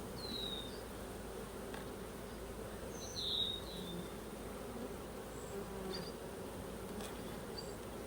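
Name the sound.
honey bees buzzing at an open hive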